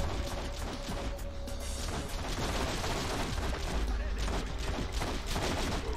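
Gunfire in a Matrix video game as the player shoots at enemies, a dense continuous fusillade of shots and impacts filling the clip, with voices talking underneath.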